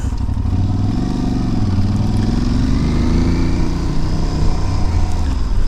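A 2022 Aprilia Tuareg 660 motorcycle on the move, its engine droning loud and steady close by, with shifting pitch under constant wind rush.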